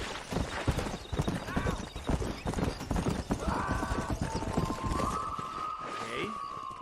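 Horse galloping in Red Dead Redemption on PS3, with rapid, loud hoofbeats throughout, a brief whinny, and voices shouting and chattering over the run.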